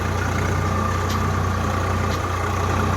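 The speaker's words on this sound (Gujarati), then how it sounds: "આગળ બીજું ટ્રેક્ટર છે ડાંગર નાખવા માટે અને મશીન ચાલુ છે" A Swaraj tractor engine idles in a paddy field, a steady low mechanical drone with constant rumble and no change in pace across the few seconds, nearby and unaccompanied by talk.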